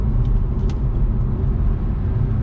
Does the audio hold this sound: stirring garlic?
no